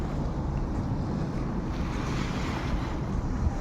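Calm sea waves washing in at a Kuwait seaside at night, a continuous low surf wash mixed with wind buffeting the microphone, steady and moderately loud.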